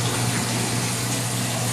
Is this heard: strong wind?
no